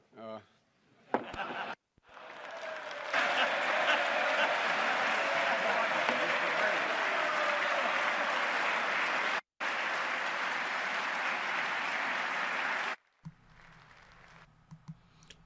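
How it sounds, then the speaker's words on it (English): Loud, sustained applause and cheering fill a legislative chamber during a joint session of Congress after an objection fails, swelling quickly and holding steady for about ten seconds before cutting off, with a brief dip midway and quieter room noise before and after. "most of the applause you heard were from Republicans"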